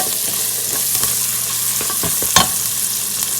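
Steady frying hiss with occasional scrapes and clinks of a spoon stirring food sautéing in a pan for mutton biryani, close and continuous.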